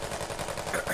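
Gunfire in the military shooter game Squad, a rapid burst of automatic shots lasting under a second, fairly loud and continuous.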